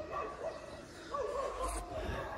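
Dogs bark and yip at a village house in the evening, fairly distant and faint, a few short yelps over a soft background murmur.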